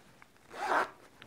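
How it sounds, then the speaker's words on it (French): Zipper on the dust bag of a belt and disc sander pulled in one smooth rasping stroke lasting about half a second, close and fairly quiet, with faint small clicks of the fabric before and after. "ce sac qui, une fois monté, se vide par l'intermédiaire de cette petite fermeture éclair"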